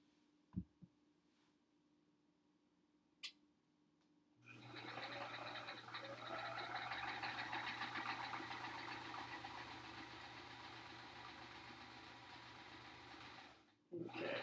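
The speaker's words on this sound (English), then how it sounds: "let's sew these together" A sewing machine stitches quilt blocks together in one steady, continuous run of whirring for about nine seconds, after a few quiet clicks and handling sounds.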